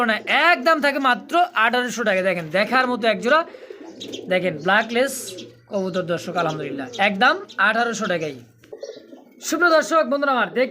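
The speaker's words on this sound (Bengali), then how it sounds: "চমৎকার এক জোড়া একদমই বিগ সাইজের মধ্যে কালদম কবুতর ইন্ডিয়ান কালদম" Large Indian Kaldom pigeons coo in low, steady murmurs beneath a man's continuous close-up talking, the cooing mostly buried under his voice.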